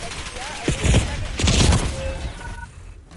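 Sentry gun fire in a video game comes as dense bursts of rapid shots under game sounds and voices, loud for about two seconds before tapering off.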